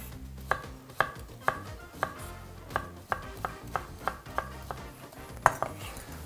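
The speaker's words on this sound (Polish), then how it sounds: "Rabarbar kroimy sobie tak, żeby nie był za mały." Knife chopping rhubarb into cubes on a cutting board, a dozen crisp, evenly spaced chops close up, with quiet kitchen background between strokes.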